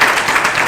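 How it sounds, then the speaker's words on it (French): Burst of clapping from a television studio audience, dense and even throughout, with no voices over it. "Merci de vous applaudir."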